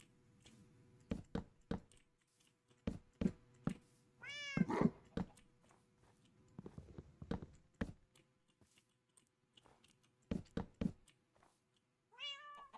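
A cat in a Minecraft-style video game meows twice amid a series of sharp, percussive in-game clicks and thumps, with quiet gaps between them and no talking.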